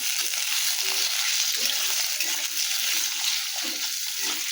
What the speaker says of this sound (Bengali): আমি আলুগুলো আগে ভেজে নেবো ভালো করে